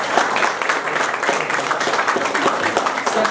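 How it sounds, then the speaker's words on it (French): Audience applause at a town ceremony in Oradour-sur-Glane where guests receive the town medal: a steady, dense wash of many hands clapping that holds evenly for a few seconds. "Et vous pouvez les applaudir"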